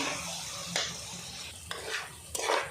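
Mutton curry with chili powder being stirred in a pan, with soft sizzling under several scraping spoon strokes in quick bursts, fairly quiet and without talk.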